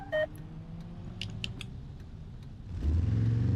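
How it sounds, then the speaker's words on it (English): Automatic braking of a car in BeamNG: a soft mechanical creak and a few brief high clicks over a steady engine hum, then a sudden louder low rumble as the brakes engage near the end. "That was automatic braking."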